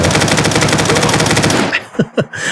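Automatic rifle from a Fallout 4 modern weapon pack, a loud, fast, even stream of shots for about a second and a half, then several separate fading thumps.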